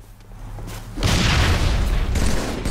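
A grenade blast in the shooter game Halo 3 lands as a sudden heavy boom after a quiet moment, then a dense, rumbling roar that carries on loudly to the end.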